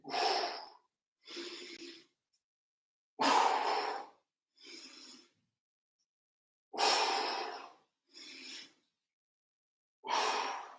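Slow, deliberate breaths during a stretching exercise in an at-home daily refresh workout: seven broadband breath bursts, alternating longer forceful exhales with shorter inhales, close and fairly loud, separated by silent pauses, with no talking.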